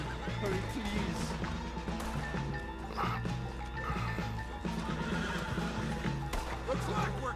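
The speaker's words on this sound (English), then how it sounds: "Put Strauss on the back of John's horse" Horse neighs and hoof clip-clops from Red Dead Redemption 2 sound continuously over a dense game soundscape, with voices talking over them throughout.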